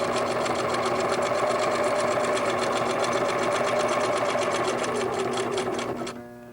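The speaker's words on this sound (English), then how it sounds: "Use a 1/4 inch seam allowance and begin to sew" A sewing machine stitches quilt fabric at a quarter-inch seam, giving a loud, rapid, even mechanical chatter for about six seconds. It then slows and stops as the needle comes down to pivot at a corner.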